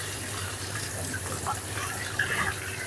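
Tap water runs steadily while fish is washed under it, a continuous close gush with small splashy variations and no speech.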